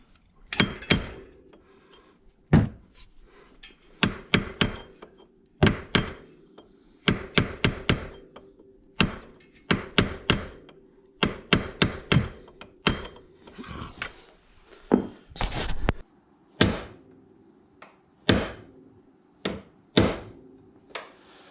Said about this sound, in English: it turns out I just need a bigger hammer